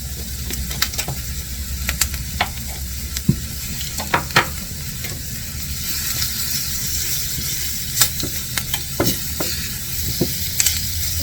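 Spices toast in butter in a pan for a chicken curry, a steady soft sizzle broken by sharp clicks and scrapes of stirring, close and fairly loud, with no talking.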